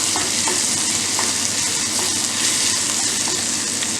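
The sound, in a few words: stirring crushed garlic into frying brinjal kuzhambu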